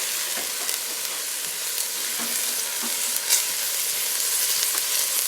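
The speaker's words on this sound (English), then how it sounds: "I'm going to mix this all around." Garlic being stirred into a beef, bean and cabbage stew in a pot, a dense steady sizzle with faint scraping of the spoon, close and continuous, no talking.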